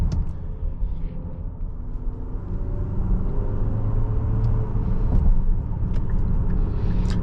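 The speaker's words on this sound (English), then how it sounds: "The engine also has a distinct tone." A 2026 Infiniti QX60 Autograph's engine hums steadily from inside the cabin on a test drive, a continuous low rumble with road noise that grows slightly louder midway as the SUV moves along.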